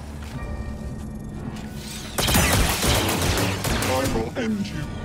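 Blaster fire in Star Wars Jedi Survivor erupts after a couple of seconds into a loud rapid volley of shots and impacts, with game voices talking through it.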